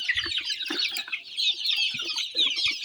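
A flock of about 100 native chickens clucks continuously while waiting to be fed, a busy, overlapping chatter of many birds at moderate distance, fairly quiet, with no talking.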